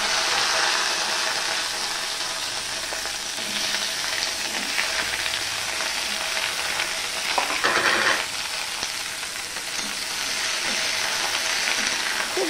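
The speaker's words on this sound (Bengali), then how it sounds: "এবার সবার প্রথমে আমি ভেন্ডিগুলো ভেজে নেব।" Okra pieces frying in hot oil, a steady loud sizzle and crackle that holds the whole time, with a brief scrape of stirring near the middle and no talk.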